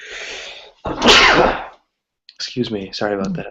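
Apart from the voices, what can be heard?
sneeze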